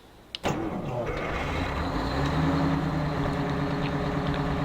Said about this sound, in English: I believe this does have authentic Detroit diesel sound effects, so let's listen.